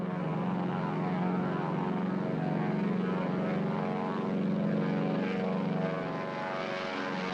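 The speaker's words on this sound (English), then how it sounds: "I loved the sound of the engines of the DC-3" Piston engines of a Douglas DC-3 airliner roar with a steady, loud propeller drone that holds throughout and eases slightly near the end, with no voices.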